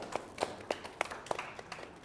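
A small audience at a film panel claps in a sparse, uneven patter, with about half a dozen distinct sharp claps standing out over a quiet room and no talk.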